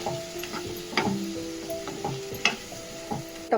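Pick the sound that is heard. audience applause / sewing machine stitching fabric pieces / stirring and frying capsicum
stirring and frying capsicum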